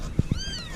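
A mother cat that has just given birth to a litter of kittens gives one short, clear meow close by, preceded by a couple of soft low thumps.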